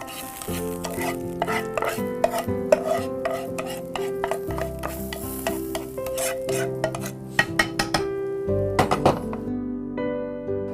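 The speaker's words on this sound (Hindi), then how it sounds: "अब सेवई को डाला है।" Vermicelli goes into milk and ghee in a pot and is stirred, giving a steady bubbling sizzle with repeated clinks and scrapes of a spoon against the pan, close and without talk.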